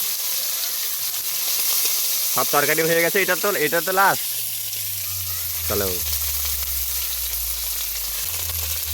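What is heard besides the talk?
dried fish (shutki) frying in oil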